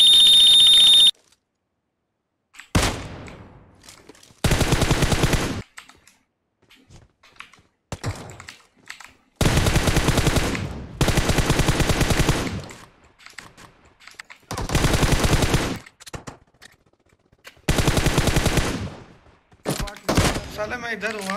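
Bursts of rapid automatic gunfire, loud and close, alternate with short silences in PUBG Mobile, broken by occasional single shots.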